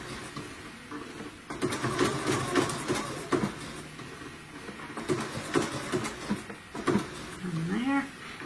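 Sewing machine stitching an applique onto a Christmas stocking, a quiet rhythmic whir and tapping of the needle that starts and stops in short runs, recorded close, with someone talking briefly near the end.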